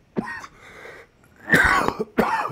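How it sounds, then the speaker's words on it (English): Several harsh coughs close by, coming in separate bursts with short pauses between them, plus some throat clearing. "My cough is just overtaking me."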